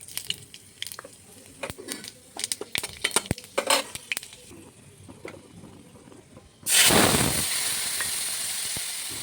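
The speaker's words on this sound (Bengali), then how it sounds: "এদিকে তেল দিয়ে দিলাম, একটি তেজপাতা, পাঁচফোড়ন।" A bay leaf and five-spice (panch phoron) hit hot oil for a hilsa fish curry, sparse clattering and clicks giving way to a sudden loud, sustained sizzle.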